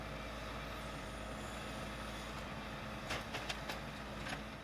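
Heavy waste collection trucks idle and rumble at a recycling sorting centre at Villeneuve-de-Rivière near Saint-Gaudens, a steady close engine drone broken by a few sharp air-brake hisses toward the end.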